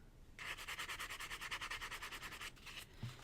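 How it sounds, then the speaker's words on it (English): Rhythmic rubbing strokes of a vintage buffing block worked around the edges of metal artisan headpins, about two dozen quick even passes, close and fairly quiet, ending with a brief pause and a small knock. "I'm going to take this piece in my trusty vintage buffing block, and I'm just going to start buffing around the edges here"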